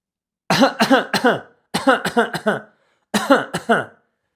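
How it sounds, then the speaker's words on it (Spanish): Three bursts of harsh, rapid coughing, several coughs in each fit, separated by short silences and heard up close. "¿cómo podemos hacer presión al disco? Tosiendo."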